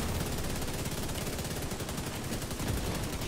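Dense, continuous automatic gunfire rattles in The Division 2 video game, loud and close, with rapid overlapping shots throughout.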